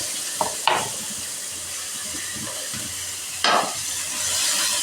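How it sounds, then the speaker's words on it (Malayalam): Cabbage and carrot thoran stir-frying in hot oil, a steady close sizzle broken by a few sharp scrapes of a spoon against the pan. "തോരൻ നല്ല ഇട്ടു ഇളക്കി."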